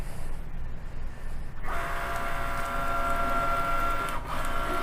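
A Cricut cutting machine starts up with a click and then runs with a steady, close mechanical whir and carriage hum, loud and continuous with no talking.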